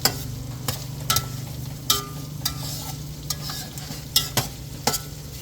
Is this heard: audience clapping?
no